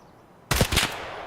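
A single loud, close gunshot in the game Escape From Tarkov, sharp attack followed by a brief echoing tail after a quiet lead-in.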